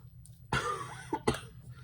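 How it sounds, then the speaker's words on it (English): A sharp cough bursts out, followed a moment later by two shorter coughs, close and loud in an otherwise quiet room. "Excuse my cough"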